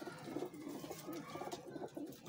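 Rampuri pigeons coo softly, a run of low, rounded repeated coos over a faint hissy background. The birds sound quiet and close, and nobody talks.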